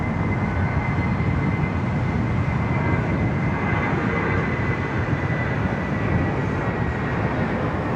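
An airliner takes off at Sydney Airport, a loud, steady, broadband jet-engine roar that stays dense and constant throughout, heard from fairly close without any voices.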